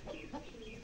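Hens cluck inside a chicken coop, a few soft, brief clucks over a low background hum, faint and close.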